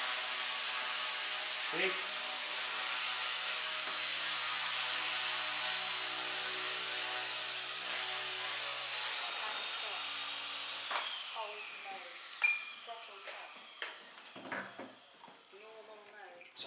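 A Blade mCP X BL2 RC helicopter winds down as it lands, a loud high whine and rotor whirr holding steady and then dropping away, followed by scattered clicks and someone talking.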